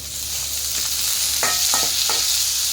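Onions and tomatoes frying together in a pan for radish chutney, a loud continuous sizzle with a few quick spatula scrapes near the end.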